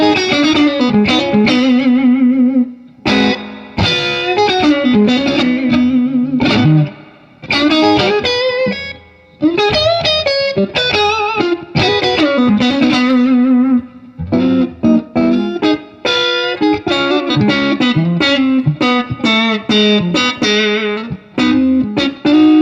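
Electric guitar played through a 1968 Fender Super Reverb amp with an Echolette tape echo preamp in the chain, warm and slightly driven, strummed chords and picked notes ringing loud and steady with brief pauses between phrases.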